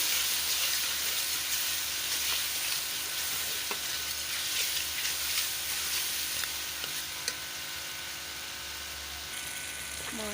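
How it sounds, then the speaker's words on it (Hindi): Spices (red chilli, coriander powder, garam masala, turmeric and fenugreek) fry with onions in a pan, giving a steady, close sizzle and hiss, broken by occasional soft clicks and scrapes of stirring. "भुनाई करती हूँ।"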